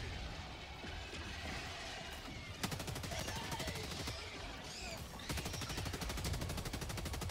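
Rapid automatic gunfire in Helldivers 2 against bugs, dense bursts that start abruptly and keep rattling steadily near and loud, with a brief pause before another stretch of firing; voices talk over the shooting.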